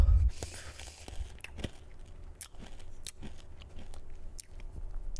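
Someone chews watermelon-flavored candy from Wisconsin close to the mic and then swallows, making soft crunching and wet mouth sounds with irregular clicks. There is little or no talking.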